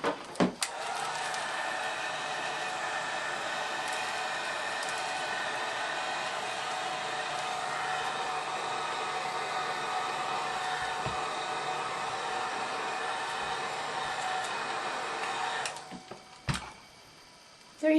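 A heat gun blows steadily for about fifteen seconds, shrinking plastic wrap snugly around a labeled bar of soap, a constant loud whooshing hiss that cuts off near the end.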